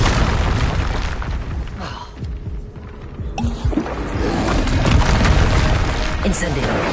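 A Confringo blasting spell in Hogwarts Legacy sets off loud, rolling explosions that merge into a continuous deep rumble with bursts and crackle, lasting the whole stretch.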